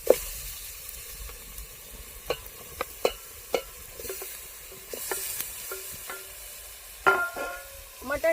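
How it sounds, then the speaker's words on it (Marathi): Marinated mutton being stir-fried in oil with browned onions, a quiet sizzle under repeated sharp scrapes and clinks of a spoon against the pan, irregular and close. "टाकून मटण पण आपल्याला चांगलं तेलामध्ये परतून घ्यायचं आहे।"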